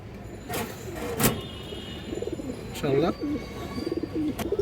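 A male army pigeon at a pigeon sale gives soft, repeated cooing notes amid several sharp bangs, with someone speaking nearby.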